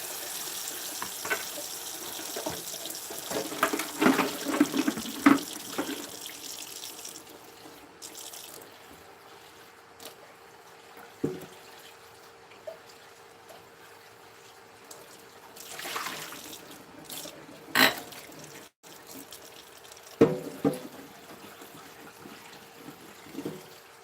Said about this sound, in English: I'm going to rinse off some of my stuff.